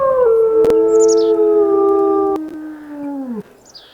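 A sustained, close, loud wolf howl in the video game WolfQuest holds one long wavering tone, then slides down and fades, with a couple of sharp clicks over it and no voices.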